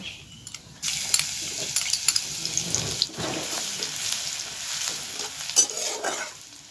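Crushed garlic and black cumin seeds spit and sizzle in hot mustard oil in a wok, a steady close frying hiss with scattered crackles and occasional scrapes, no voices.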